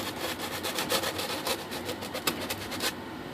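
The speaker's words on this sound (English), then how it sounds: "your conventional sanding block for painters" A sanding block rubbed back and forth over the rough edges of an E-flite J-3 Cub UMX model plane part, giving a quick, even rasping scrape in rapid close strokes that continues without pause.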